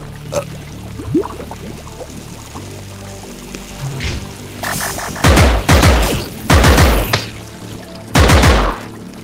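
Rifle gunfire in Compound, a retro roguelite first-person VR shooter: loud, sharp shots in short clusters through the second half, following a quieter stretch of game noise, with no talking.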